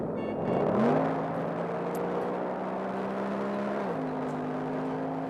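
A Mercedes-Benz engine of over 400 horsepower plays from a phone laid on a print advertisement, giving a steady mid-level hum that swells briefly, settles, then steps up in pitch near the end, with no talk.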